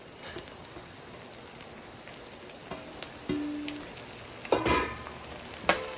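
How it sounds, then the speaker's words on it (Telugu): Onions, green chillies, coriander and mint fry in a pan for a stuffed brinjal dum biryani, a soft steady sizzle broken by a few louder clinks and scrapes as the spoon stirs, with no voices. "వేసి ఇంకొంచెం వేగే వరకు కలుపుతూ వేయించాలి"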